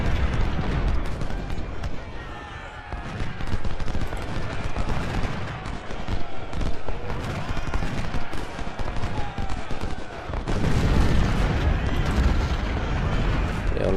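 Artillery salvos roar across a Civil War battlefield in Ultimate General: Civil War, a dense continuous mix of booming cannon fire and crackling musketry throughout, swelling again near the end, with a voice talking underneath.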